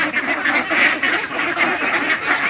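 Ducks on a poultry farm quack loudly and continuously, a crowded chorus of overlapping calls with a steady rhythmic pulse and no clear speech.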